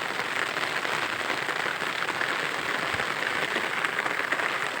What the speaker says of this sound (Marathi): हे बघा पाऊस तिकडं तर जास्त आहे